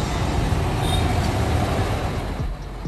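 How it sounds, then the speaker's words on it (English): A container truck for hauling shipping containers passes with a heavy, steady low rumble of engine and road noise, loud and close throughout. "Container truck."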